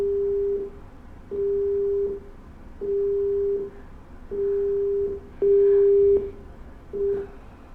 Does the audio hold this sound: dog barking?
no